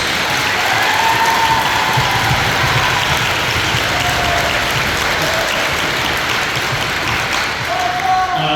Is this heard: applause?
yes